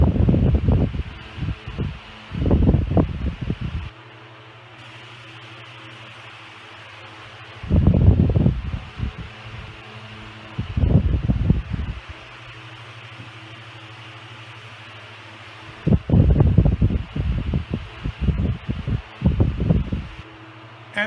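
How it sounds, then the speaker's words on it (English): A 1954 Signal Electric 16 inch oscillating fan runs at high speed with a steady airy whoosh and low motor hum, close by, its rushing breeze swelling louder at intervals as the head sweeps past. "this fan does spin at a pretty high RPM and move a very healthy breeze"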